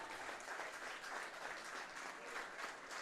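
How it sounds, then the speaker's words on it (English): Baseball crowd at a Metro East versus South game applauding a departing pitcher, a steady, moderately distant wash of clapping that holds evenly for about three seconds with no voices on top. "Crowd gives a nice round of applause for the departing pitcher."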